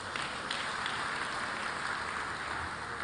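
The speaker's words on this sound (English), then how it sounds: "I think we deserve a round of applause." An audience at a Lagos West senatorial district town hall meeting applauds, a dense, steady wash of clapping heard from a distance that holds evenly throughout.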